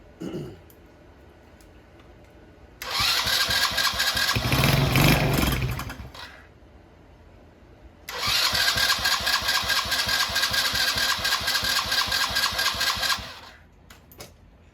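A 70cc Chinese quad's small engine is cranked and fires, running loudly for a few seconds before cutting out, then starting again and idling with a rapid, steady putter before dying; brief human sounds occur in the quiet gaps.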